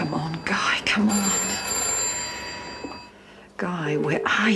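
An old-fashioned telephone bell rings in a bursts-and-pause pattern at moderate distance in a TV drama scene, with people talking over it before and after the ring.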